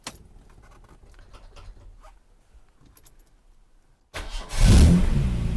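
Faint clicks and shuffling give way to a restored MG C GT classic British sports car engine cranking and catching, then roaring into a loud, steady idle with a few revs.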